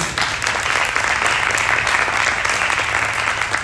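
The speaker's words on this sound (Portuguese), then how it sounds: "Vamos dar um forte aplauso ao Senhor Jesus." A church congregation gives a loud, steady burst of applause during a service, many hands clapping together with a faint crowd murmur underneath.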